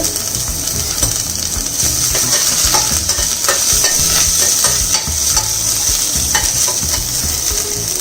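Steady sizzling of cinnamon, cloves, cardamom, cumin, ginger and garlic frying in hot ghee, with scattered stirring clicks and scrapes, continuous and fairly loud, no voices.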